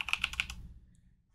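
Quick burst of typing on a computer keyboard, about half a dozen close, light key clicks in rapid succession that stop and fade into quiet.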